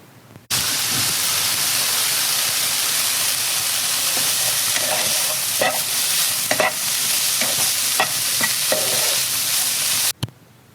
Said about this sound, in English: The crackling of the pan